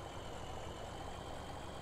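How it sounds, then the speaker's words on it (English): A tractor engine runs steadily while mowing grass in Farming Simulator 17, a low, continuous droning rumble held at an even level with no talking. "hopefully this time the tractor is going to be a little bit more useful cutting this"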